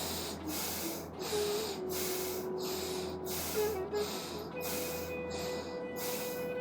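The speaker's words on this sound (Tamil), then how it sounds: "மெதுவாக மூச்சை உள்ளெழுத்து, மெதுவாக மூச்சு வெளியே விடுங்க." Slow, deliberate yoga breaths, several long airy inhales and exhales in a regular rhythm, heard close over a low background hum with a faint tone running underneath.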